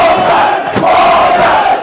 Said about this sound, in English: The crowd with the Wombats getting behind them.